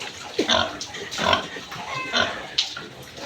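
Several pigs grunting and snorting close by, in repeated short bursts with no talking.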